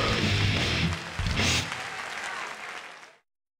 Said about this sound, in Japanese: 見事決勝戦に進んだチームに大きな拍手をお願いします。